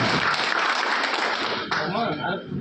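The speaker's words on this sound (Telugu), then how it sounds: "మన అందరం కూడా చప్పట్లతో ఆయన శుభాకాంక్షలు తెలియజేస్తాం" Audience applause rings out at an awards event honoring a birthday greeting, a dense steady clatter of clapping that thins toward the end, with voices talking over it.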